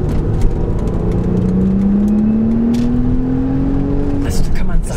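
Audi S4 B5 Avant engine pulling hard while driving: a steady drone with one clear rising tone as the car accelerates, heard from inside the cabin with constant road noise.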